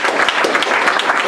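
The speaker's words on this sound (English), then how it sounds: "Give yourselves a big round of applause for supporting that." A theater show audience breaks into loud, close applause, a brief dense burst of many hands clapping at once.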